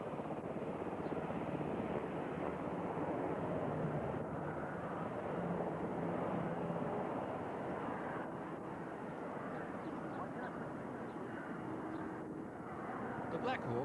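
Black Hawk military helicopters fly at the 1992 Australian International Air Show at Avalon, a steady, distant rotor and engine drone heard under a narrator's voice.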